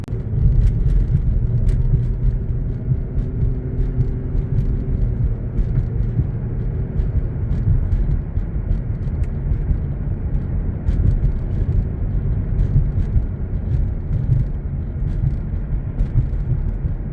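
Sustained low engine roar from a 1995 Buick Riviera with a supercharged 3.8 L V6 under full-throttle acceleration, steady and droning from inside the car with road rumble, and no talking.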